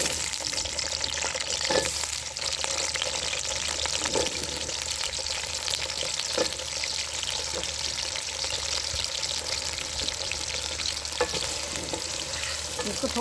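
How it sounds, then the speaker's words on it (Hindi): Potato pieces frying in hot ghee for aloo baingan, a dense continuous sizzle with faint crackles and occasional stirring clinks, close and steady throughout. "घी गर्म हो गया, अब इसमें आलू डालने लगे।"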